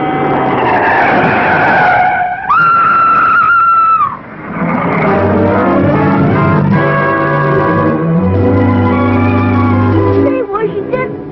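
Tires screech loudly as a car skids, a long squeal that rises in pitch and then cuts off, followed by a blend of music and engine noise.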